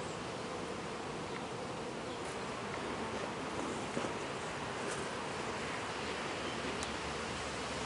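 Honey bees buzzing around an open hive during a first-year backyard inspection, a steady close hum with faint rustling and no talk.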